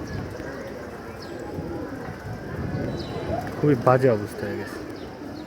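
Pigeons coo in a loft, a short burst of throaty coos rising near the end while someone speaks over steady background noise.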